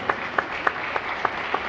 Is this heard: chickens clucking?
no